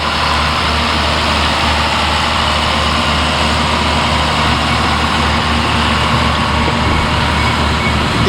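A 200-horsepower Fendt tractor pulling a potato harvester gives off a loud, steady, unbroken engine drone with dense machinery rumble and clatter, close by and constant throughout.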